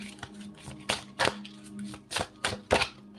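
Tarot cards being shuffled in a few quick, soft riffling bursts spaced across a few seconds, close by, with a faint steady hum underneath and no talk.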